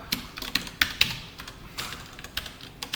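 Keys clatter on a computer keyboard as code is typed during a Java programming lesson on if and else statements, a quick irregular run of close, crisp clicks with a few sharper strikes and no voice.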